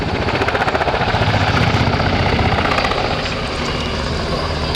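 A German Army NH90 helicopter of Transport Hubschrauber Regiment 10 roars loud and steady through a flying display at RIAT 2024, its rotor chop and turbine whine continuous throughout.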